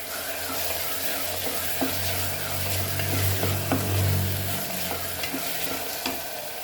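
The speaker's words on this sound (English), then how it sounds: "So let's fry this for around 5 minutes." Ingredients for dal fry, including tomatoes, sizzle in a pan while being stirred, a loud continuous fry with scraping stirs and a few clicks, close up and without speech.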